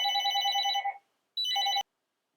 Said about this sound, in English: Sounds like the phone is ringing.